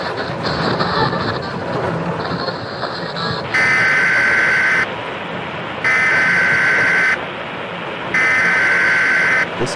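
Emergency broadcast alert tone from a radio in the horror video game Suffer The Night, during a storm: three loud, steady electronic beeps, each about a second long, repeating evenly over a rumbling storm ambience.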